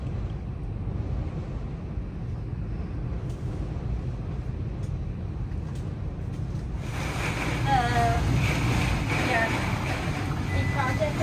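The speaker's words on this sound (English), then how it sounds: "Can you hear the wind?" Wind at a seaside RV resort in Freeport, Texas, during a tornado watch, rushes and buffets the microphone, growing stronger and brighter about two-thirds through, with someone speaking faintly underneath.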